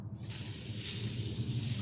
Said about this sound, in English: you're going to go ahead and just spray it